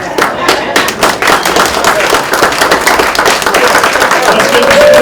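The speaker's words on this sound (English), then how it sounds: "give them a nice round of applause" Loud, close round of applause from a crowd at a Memorial Day breakfast at a veterans' post, sharp individual claps mixed with crowd noise and a voice calling out over it.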